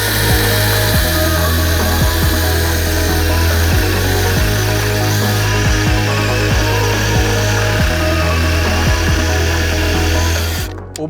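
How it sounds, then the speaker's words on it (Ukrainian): A Dnipro-M DCS-201BC cordless battery saw cuts through a tree branch with a loud, continuous motor whine and a regular ticking chatter from the chain, running steadily until it stops at the end. "А тепер подивимось, як впорається менша модель DCS 201 BC на один акумулятор."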